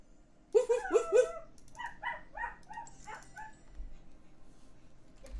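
A puppy gives a quick burst of about four yips up close, followed by softer, higher yelps and whimpery barks in a short, uneven series.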